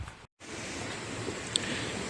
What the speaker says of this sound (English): There's definitely a waterfall that I can hear